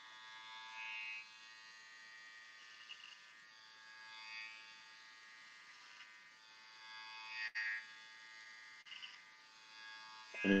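Electric hair clippers trimming the hair at the back of the neck over a comb guard, a faint, steady high-pitched buzz with small swells as the blades move, alone with no speech.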